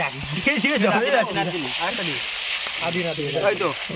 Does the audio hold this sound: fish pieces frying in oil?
yes